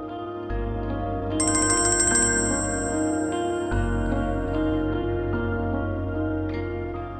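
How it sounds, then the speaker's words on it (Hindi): A phone rings with a repeating electronic melody. It is loud and close, with a brighter jingling layer for a few seconds before the tune carries on alone. "फोन बज रहा है भाई"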